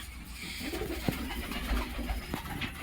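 Black pigeons cooing near a loft, a pair of birds giving low, repeated throaty coos close by over a soft steady background, with no talking.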